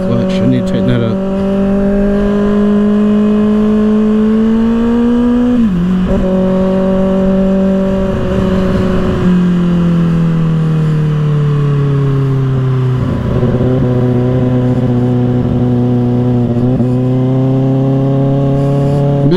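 A 2024 Kawasaki ZX-6R fitted with an M4 exhaust drones steadily while riding, its engine note rising and falling through gear changes with a brief dip near the middle; a rider talks over the loud, continuous exhaust.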